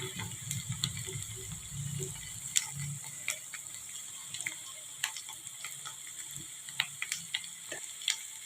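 Chicken fry sizzling steadily in a hot pan while a utensil scrapes and stirs it, with sharp clicks and taps over a constant frying hiss, no voices.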